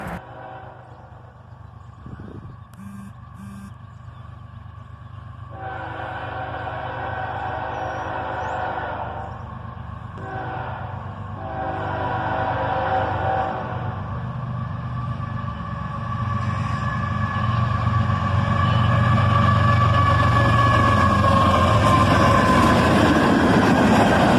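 A CSX southbound manifest freight train led by two ES44AH locomotives approaches, its rumble and wheel noise building steadily from moderate to loud over the span, with no voices.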